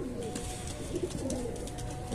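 A female pigeon coos softly at close range, its low, rolling calls faint over a steady background hum, with no talking.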